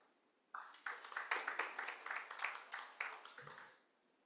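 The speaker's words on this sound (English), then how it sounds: "Please clap for Nanzala." A small room audience at an African agricultural policy panel claps for a speaker, a brief burst of several pairs of hands beginning abruptly, fairly close and moderately loud, then tapering off after about three seconds.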